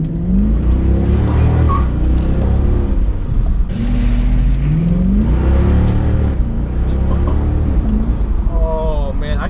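A Mercedes CL63 AMG engine revs repeatedly, with several rising and falling swells over a steady loud idle rumble, heard up close for about nine seconds.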